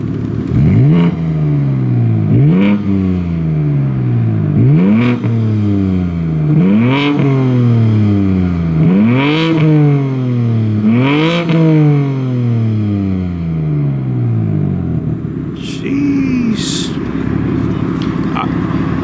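A BMW sports car exhaust revs loudly and repeatedly, about six sharp rises and falls in a steady rhythm, then drops toward idle near the end.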